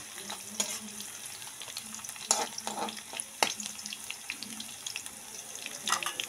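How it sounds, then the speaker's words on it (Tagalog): Garlic, onion and ginger sautéing in a pan for chicken tinola, a steady close sizzle broken by repeated sharp scraping and stirring clicks. "Kapag nagisa na po natin yung ating bawang, sibuyas at ang ating luya"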